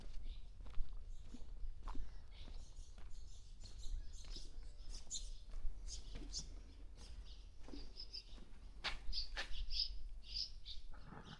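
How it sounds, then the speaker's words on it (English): Numerous small birds chirp and tweet overhead at Old Fort Niagara in Youngstown, New York, in quick, scattered bursts over a low rumbling background, some calls close and sharp, others fainter. "There is a million birds up there. You can hear them."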